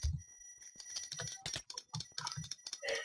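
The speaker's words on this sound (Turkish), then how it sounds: "Şu an mouse'un sesi size nasıl gidiyor bilmiyorum." A computer mouse is clicked rapidly during a Minecraft PvP match, a quick irregular burst of sharp close clicks with short gaps, loud and dry with no voices.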